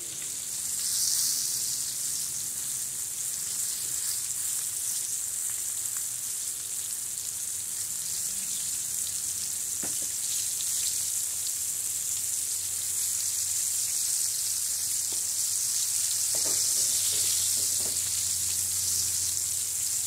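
Beef liver frying in oil in a pan, a steady close sizzle and crackle running the whole time with occasional sharper pops, no talking.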